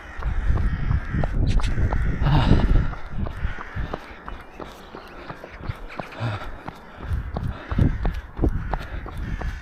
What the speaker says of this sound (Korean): 까마귀 오랜만에 왔네요 떼 까마귀들